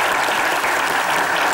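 A TV studio audience claps steadily and loudly, a dense unbroken wash of applause with no voices over it.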